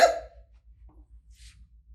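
A voice imitates an elephant's hiccup with a single short, sharp burst at the start, then near silence follows with only a faint low background hum.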